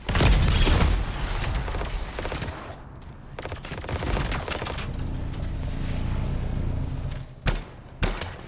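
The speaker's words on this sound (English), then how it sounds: "damn grenades. They have huge blast radius." Heavy blasts and bursts of weapon fire fill the scene as grenades detonate in the video game Anthem, a loud dense opening barrage fading into rumbling and scattered sharp hits.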